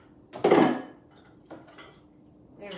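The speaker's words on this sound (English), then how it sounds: "I have my dishes from last night." Dishes and cutlery from the night before clatter in a home kitchen, one loud clinking burst near the start followed by a couple of fainter knocks and clinks, with no talking.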